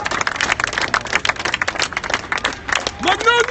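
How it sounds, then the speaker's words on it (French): Firefighters clap at a street protest in Paris along the Cours de Vincennes, an uneven patter of outdoor applause mixed with crowd noise and people talking over it. "Les pompiers applaudissent."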